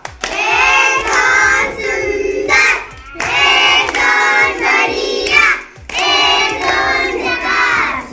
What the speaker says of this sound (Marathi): त्याच्यासाठी जोरदार टाळ्या वाजवा